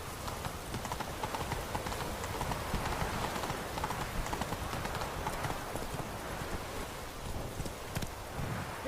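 In The Witcher 3, the horse Roach trots along with a continuous run of rhythmic hoof clip-clops, fairly close, over a rainy, rumbling outdoor ambience.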